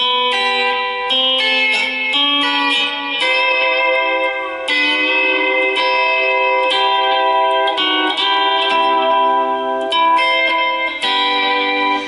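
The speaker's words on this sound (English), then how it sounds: "I'm plucking up on the 1st and the 3rd string" Lap steel guitar plays plucked notes on the 1st and 3rd strings using slants, with smooth slides between pitches, clear and upfront, no voices.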